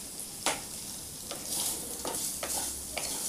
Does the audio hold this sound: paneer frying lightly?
yes